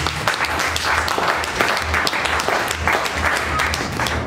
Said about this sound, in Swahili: Utupe Yesu makofi ya utukufu.